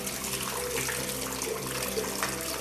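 Water trickles slowly from an irrigation tube into plant pots, a steady soft gurgle and splash that continues evenly throughout with no pauses.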